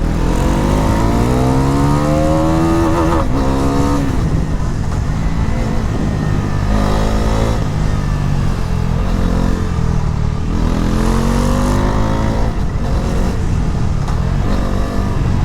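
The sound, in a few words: motorcycle engine accelerating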